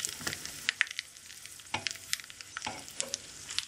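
Hot oil crackles and spits with sharp, irregular pops as mustard seeds splutter close by for a besan chutney tempering, no voices.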